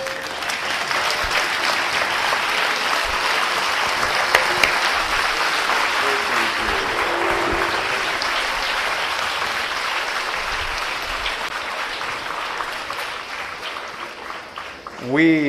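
Sustained applause from a large audience at a talk fills the whole stretch, dense and steady, fading slightly near the end.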